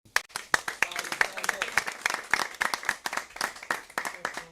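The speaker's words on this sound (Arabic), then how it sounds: "تصفيق لهم" Sparse clapping from a small group at a charity fundraising broadcast, distinct sharp claps in an irregular rhythm, fairly quiet, with a voice speaking over it.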